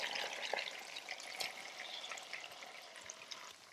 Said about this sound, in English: Now I'll add in the seasoned shrimp.